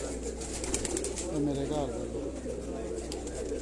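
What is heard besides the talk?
Shahjor breed pigeon cooing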